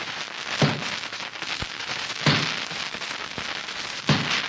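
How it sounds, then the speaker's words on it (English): An axe chops into a tree as a radio drama sound effect set in the Kunlun Mountains: three sharp, loud strikes land about every two seconds, with fainter knocks between them and no voices. "That's the sound of an axe chopping a tree in the Kunlun Mountains."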